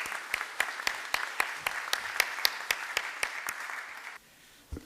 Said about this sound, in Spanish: Para que pida un caluroso aplauso.